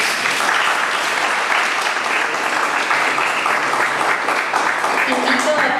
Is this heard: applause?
yes